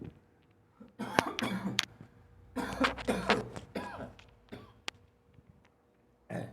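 A burst of harsh, repeated coughing fits, loud and close, with short pauses between bouts and a final cough at the end.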